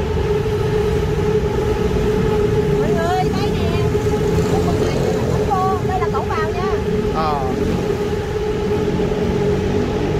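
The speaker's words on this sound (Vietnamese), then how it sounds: "Trên kia là tàu điện trên cao." Elevated sky train running over busy road traffic on a flyover in Thailand, a steady loud rumble and hum with passing vehicle noise throughout and brief tonal whines; people talk over it.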